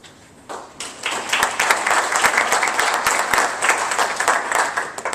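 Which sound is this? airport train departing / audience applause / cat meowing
audience applause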